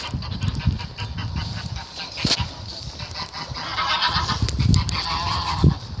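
Farmyard geese honk repeatedly in an uneven, overlapping chorus, fairly close and loud, with scattered sharper calls rising above the flock's ongoing chatter.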